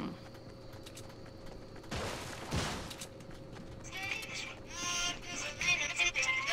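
Gunfire from a battle royale video game: a burst of sharp shots crackles around the two-second mark amid a busy game soundscape, with brighter chattering effects following later.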